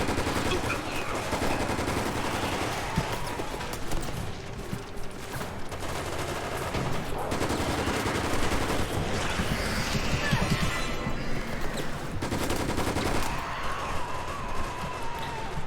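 Gunfire from the video game Resident Evil 6 rattles in dense, continuous bursts of shooting mixed with game effects, loud and busy throughout, with some voices underneath.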